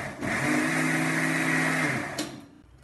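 A kitchen mixer grinder whirs in one quick, steady two-second burst on cooked spinach for avial, loud and close, then spins down to silence.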